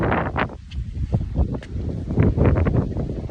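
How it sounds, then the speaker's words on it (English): Outdoor wind gusts buffet a microphone at a Florida skate spot, a steady low roar swelling and easing in uneven surges across a few seconds with no voices. "It's windy."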